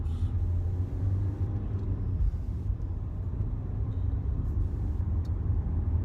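A bus rumbles past on the road, a loud, steady low engine drone that holds throughout without a clear rise or fall.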